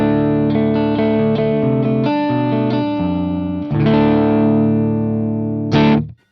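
A Gretsch G2655 electric guitar played clean through a Vox AC15 amp: steady strummed chords ring out and shift for several seconds, ending on a final loud strum that is abruptly cut off.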